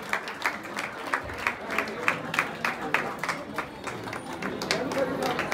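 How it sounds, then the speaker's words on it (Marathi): Audience applause at an academy's Ganeshotsav traditional-day competition: steady, lively clapping from a crowd, continuous throughout with a voice talking over it. "टाळ्यांचा आवाज थांबला नाही पाहिजे"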